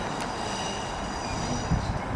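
A passenger train on the line to Hexham rolls past in a steady, close rumble with a faint metallic hiss above it and a small knock near the end; no voices.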